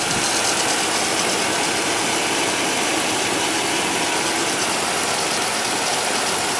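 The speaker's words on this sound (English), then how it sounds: "And then listen to the exhaust when it's idling." Original 21-year-old V8 in a 1996 Chevy Silverado Z71 idling steadily with its exhaust, a constant close, loud rumble with a dense hiss and no pauses.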